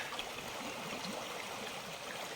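Natural river water flowing steadily in a rural stream, a continuous close babbling and trickling wash with no pauses and no voices.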